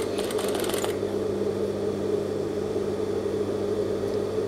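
A sewing machine stitches piping into the seam groove along the neckline of an A-line robe. A steady, close motor hum runs throughout, with rapid needle ticking in the first second.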